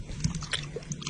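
A big bass crunching down on a crawfish, heard as a brief series of close, wet crunching bites over a muffled underwater background.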